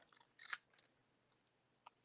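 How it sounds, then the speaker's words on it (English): Scissors snip around a stamped scrap of paper for card making, giving a few quiet, close crisp cuts followed by a faint single snip, with no voices. "just cut around it with the scissors"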